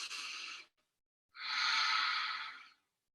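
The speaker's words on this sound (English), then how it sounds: "a deep breath in" Breathing during a gentle yoga relaxation, heard as a short airy exhale, then a pause, then one long, smooth, close breath that swells and fades, with no talking.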